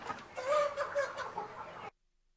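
Native country chickens around seventy days old cluck steadily on a poultry farm, a dense chorus of overlapping calls at moderate volume that stops abruptly near the end.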